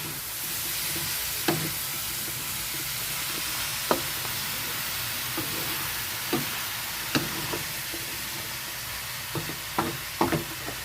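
Jackfruit simmering in coconut milk is stirred in a pot, a steady soft bubbling hiss broken by a dozen or so sharp, irregular knocks of the spoon against the pan, no voices.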